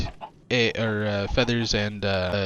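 Chickens clucking in the video game Minecraft, kept in an egg-laying farm setup; loud, close, harmonic clucks in two or three long bursts, with no talk over them.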